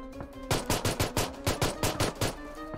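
Rapid weapon fire in the battle-royale mobile game PUBG Mobile: roughly ten sharp, evenly spaced shots rattle off in a quick burst, close and punchy, with no voices over them.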